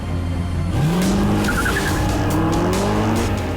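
A 6.2 litre petrol V8 Mercedes SLS AMG races an electric SLS. The engine roars close by, its pitch climbing through the gears, while tires squeal and skid.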